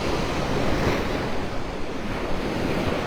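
Strong Gulf wind roars across the microphone over steady crashing surf at Vanderbilt Beach, Naples, Florida, a continuous loud rush with no voices.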